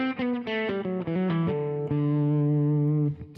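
An overdriven electric guitar with Alnico pickups through a Marshall ST20H tube amp plays a short run of notes, then settles on a long, sustained, gritty tone that rings out.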